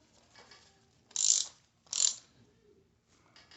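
A wrench ratchets in two short, clicking bursts as a prosthetic dog leg is adjusted, close and fairly quiet, with soft handling noises between and no talking.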